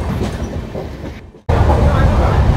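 A passenger train on the Sealdah to New Jalpaiguri route rumbles along the rails, heard from inside a carriage. The steady clatter dips briefly, as if passing a gap, then returns louder and more rhythmic.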